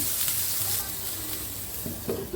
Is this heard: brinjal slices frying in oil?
yes